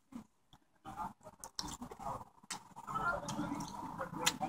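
Sour watermelon-flavoured American candy chewed up close: wet, sticky mouth sounds and soft crunching bites in an irregular rhythm, starting quiet and growing busier and louder, with no talking.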